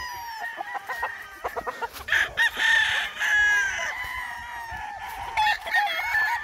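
Gamefowl roosters at a game farm crow repeatedly, several birds overlapping near and far, with clucking and scattered farmyard clatter between the long crows.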